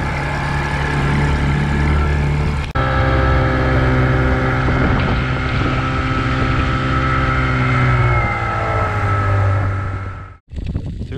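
A fishing boat engine that is not cooling runs loudly and steadily close by, its droning hum shifting slightly in pitch before cutting out abruptly near the end.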